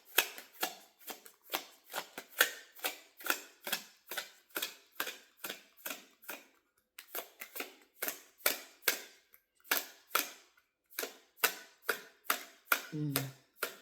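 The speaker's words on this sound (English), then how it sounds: "Certain kind of decks I can shuffle and flow with." A tarot deck shuffled over and over in quick riffling bursts, a steady crisp rhythm of snaps close by with only a brief pause partway.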